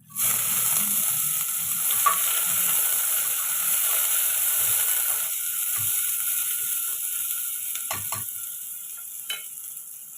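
Finely chopped medium onion sautéing in a pan with crackled cumin seeds, a steady close sizzle with occasional scrapes and stirring clicks from a utensil, no talking.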